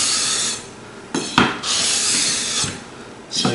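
Sanding block rubbing along a worn guitar fretboard on an Avon Marauder, in steady rasping strokes with short pauses between passes, close and fairly loud with no voices.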